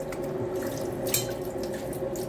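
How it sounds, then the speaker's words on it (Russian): Peeled tomatoes go into cold water for a winter tomato preserve, heard as a steady wash of running, splashing water close by, with no talk. "Все, кладем в холодную воду."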